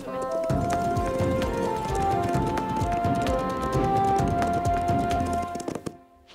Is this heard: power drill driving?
no